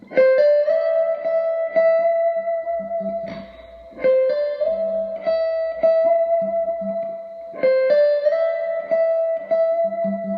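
An electric guitar plays a sustained, melodic lick from a solo, repeating a held bent note with slides and vibrato, loud and clear with no talking.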